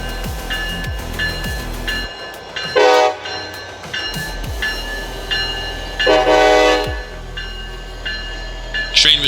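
A train heading east toward Hanover Junction rumbles and clacks past nearby, sounding two loud, sustained horn blasts a few seconds apart over the steady rolling noise.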